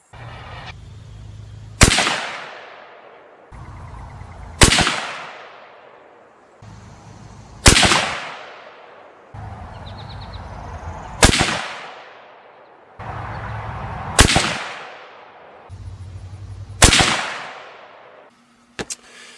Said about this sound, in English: sighting this rifle in with that ammo on a bench rest